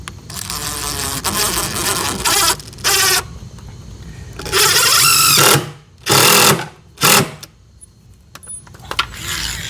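A power driver whirs in several loud, close bursts, starting, stopping and starting again, while a block is fastened during a washing machine box install.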